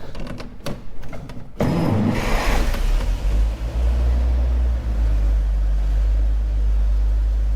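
A few mechanical clicks, then a 1934 Dodge engine cranks and catches on its first start after restoration work, settling into a loud, steady low idle that runs on.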